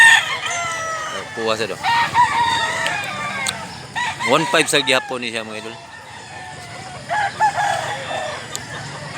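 A rooster crows several times, drawn-out calls rising and falling, with someone talking over and between the crows.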